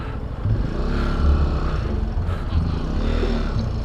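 A Benelli TNT135 motorcycle engine hums along off road over rough, muddy ground, a steady near drone with light clatter and slight swells in revs.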